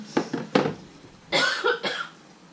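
A person coughing after eating hot peppers: a short cluster of three harsh coughs, a pause, then two more louder coughs up close.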